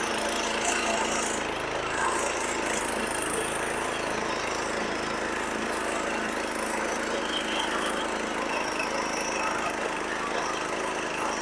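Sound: self-start diesel power weeder engine running

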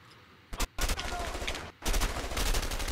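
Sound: gunshot in the video game A Way Out

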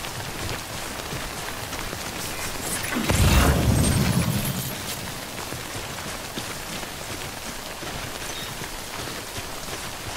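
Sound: heavy rain in video game Death Stranding

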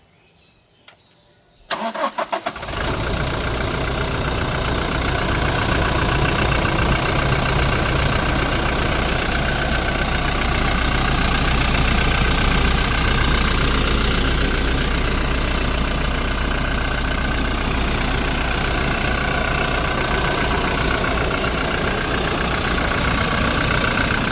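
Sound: Toyota Innova Crysta car engine starting and idling

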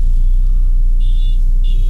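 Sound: Mahindra XUV300 car pulling out through crowded traffic

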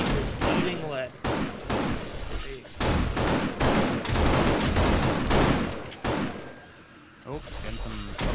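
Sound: gunfire shooting a zombie in video game 7 Days to Die

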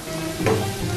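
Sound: sautéing meat for bolognese sauce

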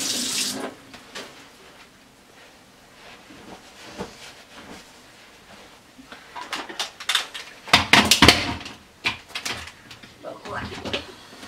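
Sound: tap water running onto hands

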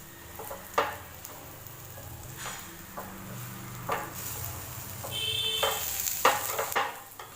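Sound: frying flatbread sizzling in pan

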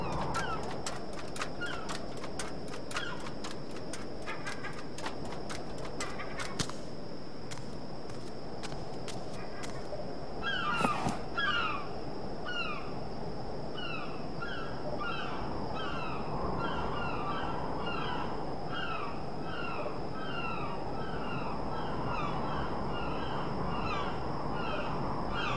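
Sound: seagulls crying in the video game Submerged

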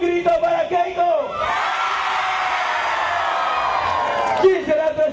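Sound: crowd shouting and cheering at a political rally

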